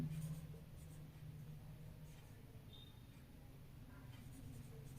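Chalk or marker writing on a classroom board during a biology lesson, a faint scratchy scraping of strokes running steadily under a low background hum, with no talk.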